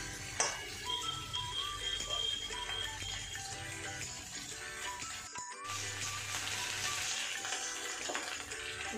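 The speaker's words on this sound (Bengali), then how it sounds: "দেখো, আমি আলুটা নেড়ে দিচ্ছি।" Potatoes seasoned with kasuri methi and cumin are stirred and fried in a pan, giving a soft, steady sizzle with faint scraping and clicking from the stirring and a short gap in the middle.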